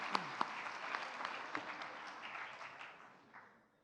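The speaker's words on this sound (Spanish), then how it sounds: "recibamos a Carlos Granés con un gran aplauso" An audience at a conference applauds to welcome the speaker Carlos Granés, with a few sharp claps at the start, then a full round of clapping that gradually fades out.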